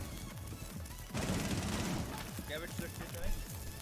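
Bursts of gunfire crackle from a kitchen area in a tactical shooter match, a dense volley rising suddenly and lingering, with scattered sharper shots and game noise mixed in.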